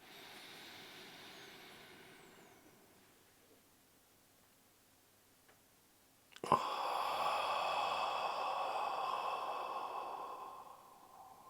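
Deep breathing during a guided relaxation exercise: a soft, faint exhale tapers off, then after a pause a loud, close breath swells and holds for several seconds, heard alone with no talk.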